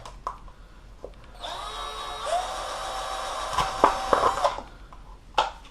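A power drill bores drainage holes through a plastic garden pot, a steady whine of a few seconds with the bit catching and grinding as it breaks through, preceded and followed by faint handling knocks.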